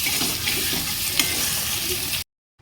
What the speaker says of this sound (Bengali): দিয়ে চিংড়ি মাছ দিয়ে এই যে কষছি ভালো করে।